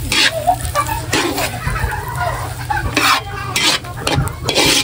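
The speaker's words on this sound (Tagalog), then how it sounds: "Igigisa ko na rin po itong bawang at sibuyas." Garlic and onion sauté in butter for sweet chili crab, a loud close stir with repeated scraping and clinking of a utensil against the pan over a low frying hiss.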